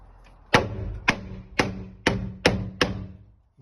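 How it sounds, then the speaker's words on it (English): A heavy wooden mallet knocks the wall boards of a garden log cabin into place with six loud, evenly spaced thuds, each followed by a brief resonant decay. "a normal heavy mallet with a piece of wood is probably better"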